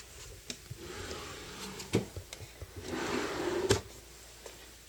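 A craft room drawer holding tools and punches slides open or shut, with a few soft knocks and a louder scraping rush near the end, close by with no talking.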